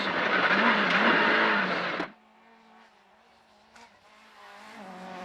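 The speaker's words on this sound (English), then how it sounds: "Derek Mackrell was at maximum attack as usual in his Vauxhall Nova" Vauxhall Nova rally car driven flat out on forest stages, its engine roaring loudly and close, then cutting off abruptly into a low distant hum with a faint click.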